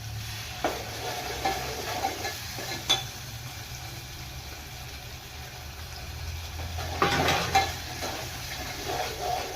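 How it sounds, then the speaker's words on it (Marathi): Grated tomato goes into a hot pan of cooked spices, and a soft steady sizzle swells with a louder burst of frying and stirring scrapes near the end. "आता हा टाकणार आहे."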